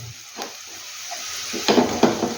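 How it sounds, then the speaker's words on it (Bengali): Onion fries in a pan with a soft, steady sizzle, broken by a few louder scraping stirs near the end, up close and with no speech. "এবার আমি পেঁয়াজটা একটু ভালো করে ভেজে নেব।"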